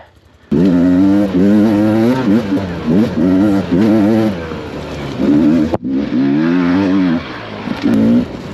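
Two-stroke motorcycle clawing up a steep, grippy off-road hill climb, its engine revving hard in rising and falling surges, loud and close, with a brief cut-out near the end before it picks up again.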